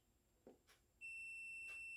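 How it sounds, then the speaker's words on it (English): A multimeter gives a steady high-pitched continuity beep while testing a 240-volt, 30-amp kitchen stove fuse, starting abruptly after a few faint clicks and holding loud and unbroken close by. "The ones that have continuity will beep, right?"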